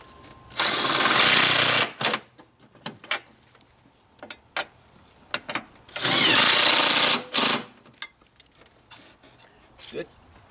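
A power tool with a wobble extension runs a bolt down during a Buick Enclave torque strut mount replacement, two loud, close bursts of whirring about a second long separated by clanks, with a voice speaking between them.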